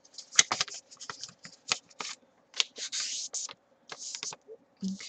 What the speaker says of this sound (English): I'm going to fold it diagonal.